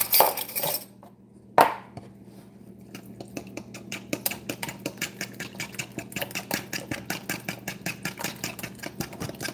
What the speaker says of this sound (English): I have to mix these together.